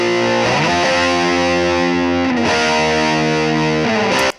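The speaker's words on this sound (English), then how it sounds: "you have 21 different guitar speaker impulse responses" Distorted electric guitar played through a stock Logic Space Designer guitar speaker impulse response, with three sustained chords struck in turn at a steady, loud level, ending abruptly.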